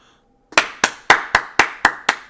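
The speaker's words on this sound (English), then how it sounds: "that's a round of applause for me" A single person claps seven times at a fairly even pace, each sharp, close, dry slap standing out against near silence after a brief quiet start.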